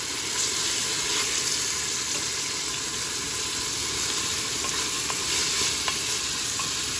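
Boiled chicken breast stirred into a pan with sautéed onion, giving a steady close sizzle and frying hiss with occasional light scrapes and clinks of the spoon, no talk.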